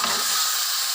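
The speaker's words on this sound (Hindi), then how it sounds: "चम्मच के साथ इस तरह से मसाले को मैश करेंगे।" Spices for mash daal fry in a pan while a spoon mashes them, a brief, continuous close sizzle with no other sound.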